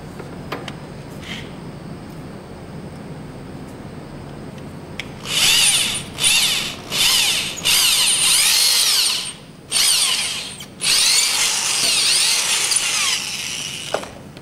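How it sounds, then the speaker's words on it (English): A power drill bores into a wooden pen blank in a series of loud, whining bursts that start and stop repeatedly after a quiet stretch of handling noise, close and without talk. "pull out the drill so you can keep checking to see if you've hit the brass or not"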